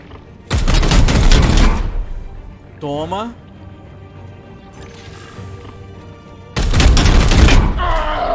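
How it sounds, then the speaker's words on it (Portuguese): Two loud bursts of rapid gunfire in the video game Warhammer 40,000: Chaos Gate - Daemonhunters, one early and one near the end, with a brief spoken word and quiet ambience between them. "Vou dar 2 tiros e andar."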